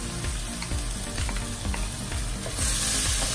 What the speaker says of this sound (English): We saute the black beans and garlic sauce to enhance the flavor and to incorporate it with the other ingredients.